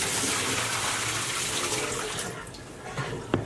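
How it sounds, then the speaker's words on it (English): Water from a pot of boiled potatoes pours out and drains steadily with a continuous splashing rush that fades slightly toward the end, followed by a small clink. "So after about 2 minutes we'll drain the water."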